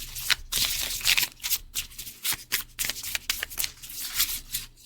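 Tarot cards riffled and handled close up, a rapid run of crisp papery flicks and slaps in uneven bursts, with brief pauses between shuffles and no talking.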